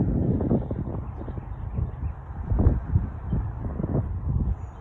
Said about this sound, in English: It's also windy.